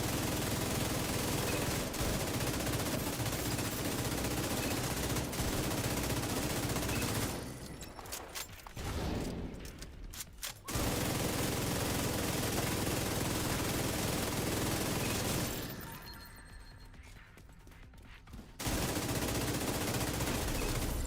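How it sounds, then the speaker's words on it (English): A high-end MK46 light machine gun fires in The Division 2, long sustained automatic bursts with two brief pauses, loud and close, with no talk. "What LMG is that? This is the MK46 high-end."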